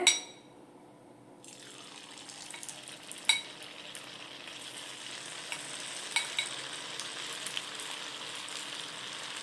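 Baby corn pieces drop one at a time into hot oil in a pan, setting off a steady, close frying sizzle that swells after the first second and carries a few faint clinks and splashes.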